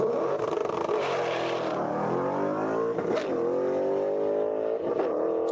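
A Lund-tuned Mitsubishi Evo with a manual gearbox, run as a drag car in 2010, accelerates hard. Its loud engine roar climbs in pitch, breaks briefly at each gear change, then rises again with no talking over it.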